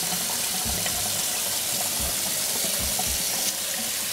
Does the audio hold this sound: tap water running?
yes